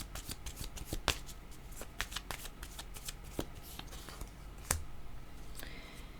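Tarot cards shuffled and handled close by, a dense run of crisp riffling clicks and flicks with a few sharper snaps, fairly quiet and with no talking.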